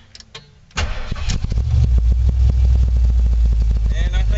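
A Ford Bronco engine cold-starts on a winter morning after sitting for a week: a few faint clicks, then a loud crank catches and settles into a rough, steady idle close by.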